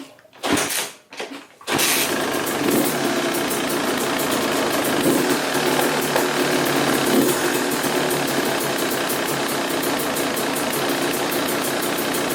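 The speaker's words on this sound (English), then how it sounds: "Have the engine warm up completely by idling" A Yamaha YZ250 two-stroke dirt bike engine idles steadily and loudly after a rebuilt top end, warming up during break-in, following a couple of brief bursts at the start.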